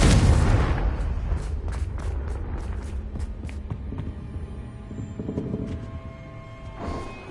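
The Confringo fire spell goes off in Hogwarts Legacy as a loud booming blast at the start that rumbles and fades, followed by softer crackles and scattered pops.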